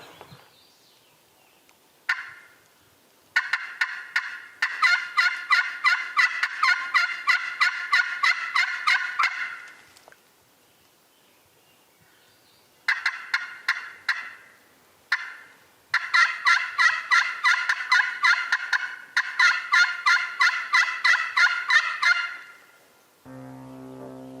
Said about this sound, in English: Big gobbler day. Huge. Really hearing them.